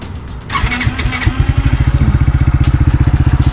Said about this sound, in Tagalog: Maandar yung motor, pero naka-side stand.